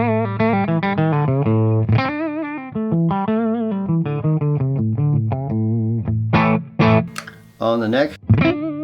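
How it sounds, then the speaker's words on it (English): Les Paul electric guitar on its bridge pickup, driven through an overdrive pedal: gritty, sustained chords and single notes played steadily, close and loud, with a few sharper accents near the end. "And the Les Paul sounds like this on the bridge."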